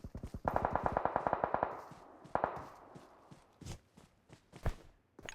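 Automatic gunfire in the PUBG Mobile battle game: a rapid, loud burst of about a dozen shots, then scattered single shots and soft footstep-like thuds.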